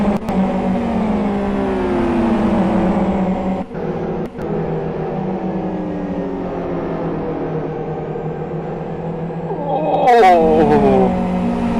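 GT2 race cars in a GT World Series race scream past one after another, engines loud and close with pitch sweeps, ending in a sharper burst of revving near the end.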